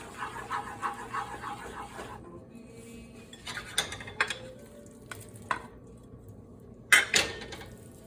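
Metal utensil scraping and clinking in a pan while classic white sauce with shrimp and seafood is stirred and broken up, first a rhythmic run of strokes, then scattered louder knocks and clinks close by, without speech.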